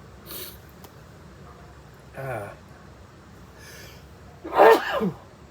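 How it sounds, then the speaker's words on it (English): Several sneezes in a row spaced a second or two apart, the last one loudest, with a sharp intake of breath before it and quiet between. "So that's my sneezing fit."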